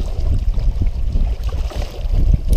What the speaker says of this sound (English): when the wave's that strong, it's really hard to keep the canoe straight too